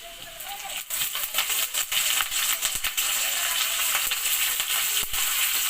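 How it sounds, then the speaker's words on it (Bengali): Chopped ginger and garlic frying in hot oil in a pan, before curry leaves go in: a loud, close, continuous crackling sizzle with sharp pops and stirring scrapes, no voices. "আদা রসুনটা একটু ফ্রাই হবে"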